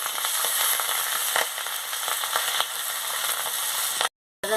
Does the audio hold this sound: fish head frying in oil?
yes